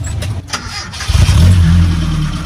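A Nissan Hardbody D21 pickup is started with the key: a brief starter crank, then the engine catches and settles into a loud, close rumbling idle.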